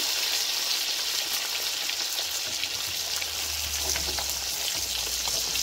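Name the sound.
hilsa fish frying in oil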